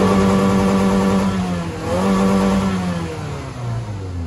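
A modified Toyota Fortuner's engine revs up and settles back, its loud, close, deep rumble swelling and falling in long pulls with a steady drone between, and no voices over it.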